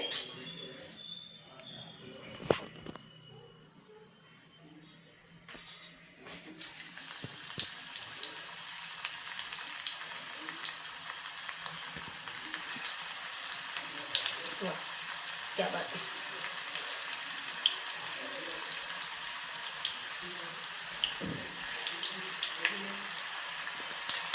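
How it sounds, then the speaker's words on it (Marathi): A second batch of crispy onion bhaji deep-frying in hot oil makes a steady, moderately loud bubbling sizzle that continues throughout, with occasional clicks and scrapes from the cooking utensils. "तशीच मी आता दुसरी बॅच तळून घेत आहे"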